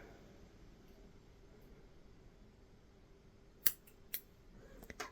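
Scissors cut green crochet yarn in a quiet room, giving two or three faint, sharp snips near the end.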